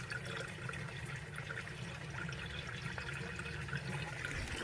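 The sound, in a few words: water flowing into aquaponic barrels from pond outflow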